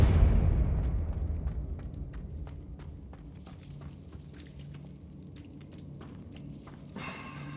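A Depulso spell cast in Hogwarts Legacy lands as a heavy, booming blast that decays into a long low rumble, with light clicking steps following and no speech.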